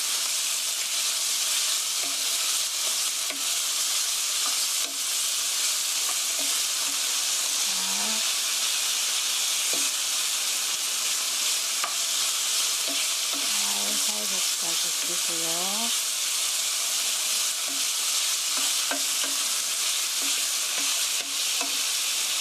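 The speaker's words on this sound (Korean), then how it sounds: "잘 달궈진 팬에서 이렇게 살살 볶아주세요" Pork sizzles and hisses steadily while being stir-fried in a well-heated pan for kimchi pork duruchigi, a continuous close frying sound with occasional light scraping and no talking.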